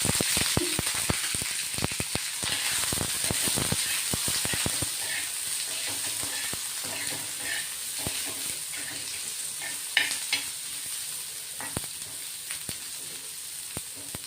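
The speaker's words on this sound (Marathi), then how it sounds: "आता तेल टाकतोय. तेल टाकल्याने पटकन भाजला जातो आपला कांदा." Sliced onion frying in oil in a home kitchen pan, a steady close sizzle with occasional stirring scrapes and clinks throughout, and no talk.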